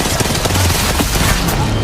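Gunfire during an Apex Legends tournament match, including RE-45 pistol shots, comes as a busy mix of quick loud bursts and impacts layered over game effects.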